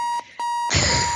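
Electronic bomb in the video game Keep Talking and Nobody Explodes emits two loud steady beeps, broken by a short gap, before a burst of noisier sound takes over.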